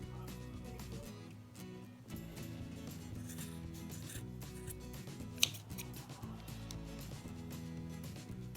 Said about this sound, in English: take your scissors and cut, make sure you go through the loops right here